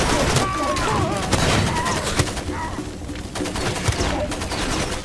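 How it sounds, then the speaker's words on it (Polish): Enemy gunfire in Far Cry 2 pops in a scattered run of shots over loud ambient jungle noise with birdsong, while someone talks excitedly over it. "Kurde, ziom strzela!"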